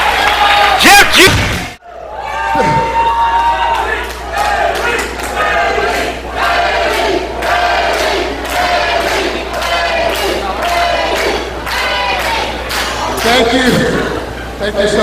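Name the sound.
crowd cheering at wrestling event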